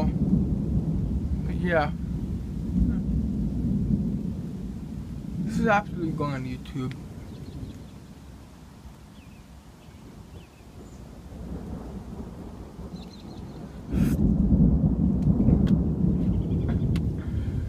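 Low rumbling thunder rolls through a severe summer thunderstorm in Newburyport, Massachusetts, with rain and wind noise beneath; a loud crack-like surge arrives near the end while people talk over the storm.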